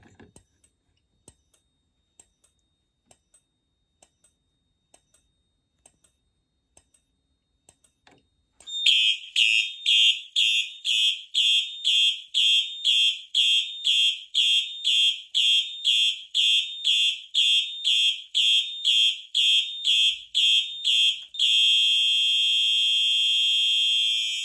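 A fire alarm panel test: after a run of faint ticks, a fire alarm system sounds following an agent release activation, a loud, rhythmic pulsing horn repeating about twice a second, then turning into a continuous tone near the end.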